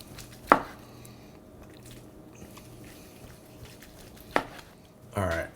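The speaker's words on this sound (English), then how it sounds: "We're cutting across the grain as always with whatever meat you're cooking." A knife cuts across the grain of a smoked brisket on a board for Hawaiian sliders. Two sharp chops are spaced well apart, followed by a short scraping swipe, all close and fairly quiet over a faint background.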